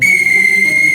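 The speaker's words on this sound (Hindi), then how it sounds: "ये तो ट्रेन ड्राइवर की सीटी है।" A train driver's whistle sounds once in a single loud, steady, high-pitched tone that is held for about a second, clear and close with nothing else heard.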